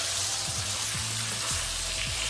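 Thick pork steaks fry in a pan with a loud, constant sizzle and crackle, steady and close throughout, with no voices.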